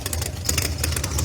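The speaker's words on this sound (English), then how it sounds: "Tyler Hard coming down the hill in that Noonan powered Pro Charger machine" A Noonan-powered, ProCharger-supercharged Pro Mod drag car coming down the strip during qualifying, its engine a loud, close, rapidly pulsing rumble over a brief moment, with no one talking.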